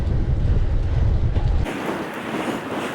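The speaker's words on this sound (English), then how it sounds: "And we're into the wind." Strong wind buffets the microphone on a beach during a night gravel bicycle ride, a loud continuous low roar that drops and thins abruptly partway through, then continues as a steadier, lighter rush.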